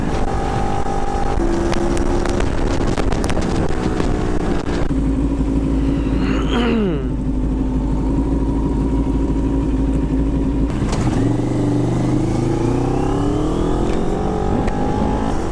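A CFMoto NK400 V3 dual-cylinder motorcycle engine runs steadily with a throaty drone on an expressway, its pitch shifting slightly as the rider changes speed, with steady road and wind noise.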